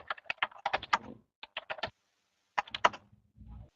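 Bursts of computer keyboard typing, a rapid run of clicks, a short pause, a few more keystrokes and then a final flurry, close and clear with no talking.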